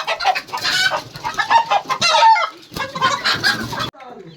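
Farm chickens and a rooster on a poultry farm cluck and squawk loudly and agitatedly while their legs are tied, close and busy in overlapping bursts, with a brief pause near the end and no talking.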